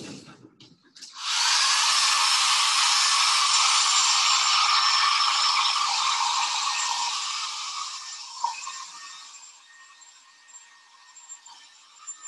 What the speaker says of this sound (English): what you're going to hear in just a moment, I'm hitting this with a hair dryer